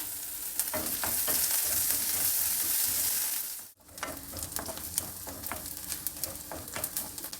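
Chopped onions, green chillies and curry leaves frying in a pan: a dense, close sizzle with stirring scrapes, briefly cut off midway, then resuming with lighter crackling and spoon knocks.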